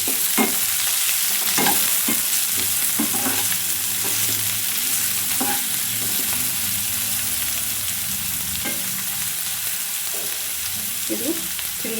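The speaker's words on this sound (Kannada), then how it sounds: "ಇವಾಗ ನಾನು ಈರುಳ್ಳಿ ಚಿಕ್ಕದಾಗಿ ಕಟ್ ಮಾಡಿ ಇಟ್ಕೊಂಡಿರೋ ಈರುಳ್ಳಿ ಹಾಕೋತಾ ಇದ್ದೀನಿ" Chopped onions sizzle and fry in hot oil with garlic and ginger for palak paneer, with a steady crackle and a few sharp stirring clinks close by.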